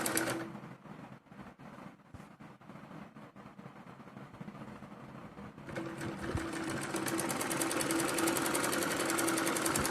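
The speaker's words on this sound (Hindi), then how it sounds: "और अब यहाँ से हमें खाली सिलना है, इसमें कोई प्लेट नहीं लेनी है।" A sewing machine stitches a small girl's salwar, starting with a rapid, even mechanical clatter that grows into a louder, steady whirring run for the second half.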